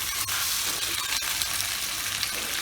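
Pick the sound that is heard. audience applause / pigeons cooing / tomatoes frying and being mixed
tomatoes frying and being mixed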